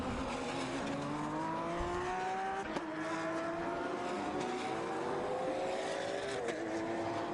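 GT race cars, including an Audi, scream through the Magny-Cours circuit during an endurance race, engines rising and falling through gear changes as several cars pass at a distance.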